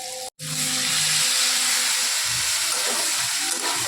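Ash gourd hits a pan of frying prawns and sizzles loudly, a steady close hiss after a brief silent gap near the start, with faint stirring scrapes later.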